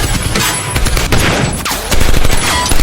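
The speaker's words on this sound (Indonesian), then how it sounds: "Dia sedang berlatih menembak di area terbuka depan rumahnya." Film gunfire from shooting practice in an open yard in front of a house: loud, dense bursts of rapid shots and booms that run together, rising again near the end, with no speech.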